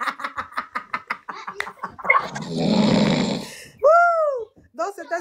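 A voice imitates a loud snore with a long rasping inhale, followed by a wavering whistle-like exhale, after a run of rapid rhythmic vocal bursts, close and clear.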